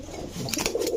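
A large male pigeon coos faintly beside a few brief, sharper bird calls, with low murmuring underneath and no clear speech.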